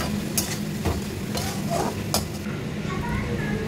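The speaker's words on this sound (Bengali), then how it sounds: "ভালো করে কষাবো পটলটাকে পোস্তটা দিয়ে, কষিয়ে অল্প করে জল দিয়ে দেবো" Sliced pointed gourd (potol) is stirred and fried with poppy seed paste in a pan, giving a steady soft sizzle with scraping stir strokes throughout.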